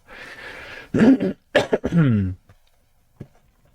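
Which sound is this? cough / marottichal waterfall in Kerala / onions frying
cough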